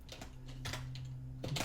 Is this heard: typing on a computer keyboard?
yes